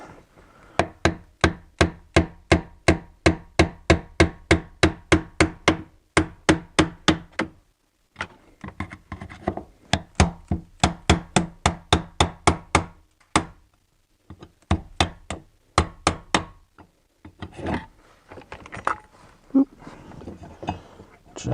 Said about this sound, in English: I just need to sort of tap it with a hammer.